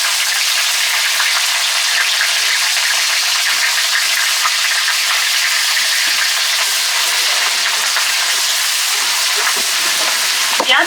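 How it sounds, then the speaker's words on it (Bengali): Onion paste fries in hot oil with dried chillies, bay leaves, cumin and cardamom. It makes a loud, dense, continuous sizzle with a crackling, spitting texture that holds steady throughout, with no voices. "পেঁয়াজ হালকা ভেজে দেবো"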